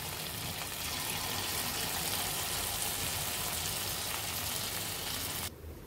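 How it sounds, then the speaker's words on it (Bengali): Chicken pakoras frying in a pan of oil, a loud, dense, even sizzle that holds steady and then drops off sharply near the end, close-up with no speech. "এখন বাকি পকোড়াগুলো আমরা ভেজে নিব"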